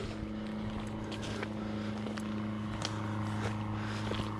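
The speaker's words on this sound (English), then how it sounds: "Sound of a long-tail boat." A long-tail boat engine drones steadily at a distance in Phang Nga, Thailand, a continuous low motor hum with faint wind across the microphone.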